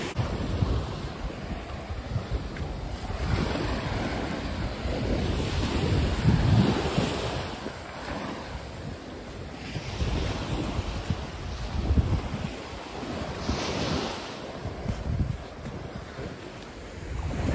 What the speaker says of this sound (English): Nothing better than going for a run next to a nice cool sea